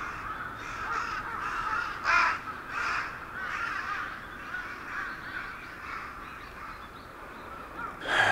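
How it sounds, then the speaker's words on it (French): Several crows cawing repeatedly outdoors near an old Japanese restaurant, harsh calls recurring over steady background noise and rising loudest toward the end. "T'entends les corbeaux?"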